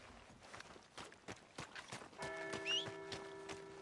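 Horse hooves in Red Dead Redemption 2 clop unevenly at a walk, close and moderately loud, with sustained musical tones and a brief whistle-like chirp coming in partway through.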